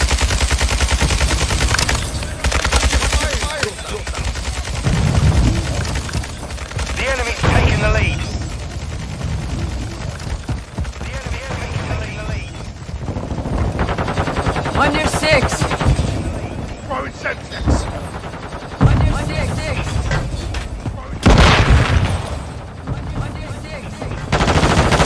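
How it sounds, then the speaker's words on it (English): Machine gun fire in an online shooter game, with long rattling bursts and scattered shots throughout, loud and close, mixed with other gunfire and explosions and with players talking over it. "Watch your fire, Yota."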